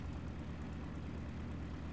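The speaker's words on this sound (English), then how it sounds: "new engine sound for the B-25" Steady droning roar of a B-25 bomber's propeller engines in War Thunder, a constant low, even hum with no breaks or voices.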